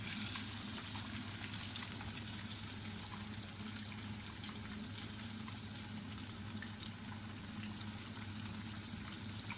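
Fish fillets spiced with masala fry in a pan of hot oil, a steady, dense sizzle with crackling spits that holds even and close for the whole stretch, with no voices over it.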